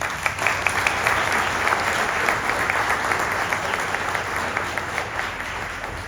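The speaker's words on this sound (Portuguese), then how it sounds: "Paulo Brant, a quem eu peço uma salva de palmas." Sustained applause from a crowd at a mayoral campaign event in Belo Horizonte, Brazil: dense, steady clapping that stays loud and even throughout.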